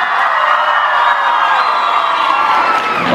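A concert crowd at a high school freshman ball, shouting and cheering loudly and continuously, a dense close roar of many voices with high whoops mixed in, sustained without a break.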